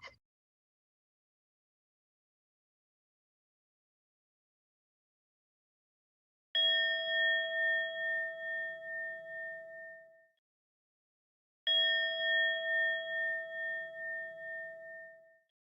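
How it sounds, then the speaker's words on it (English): A meditation bell is struck twice in otherwise near silence, each clear, bright tone ringing out and slowly decaying over several seconds with a gentle pulsing shimmer. "Second bell."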